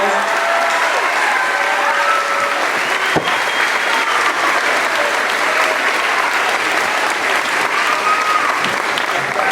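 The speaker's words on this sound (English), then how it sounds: "give them a round of applause" School families and students give staff members, teachers, security and main office staff a sustained round of applause, loud and continuous from a large crowd, with faint scattered cheering and voices under the clapping.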